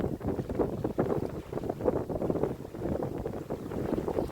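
Rising wind rushing over a sailboat at about five knots under full sail, a steady gusty roar with buffeting microphone wind noise and pulsing low rumble throughout, no voices.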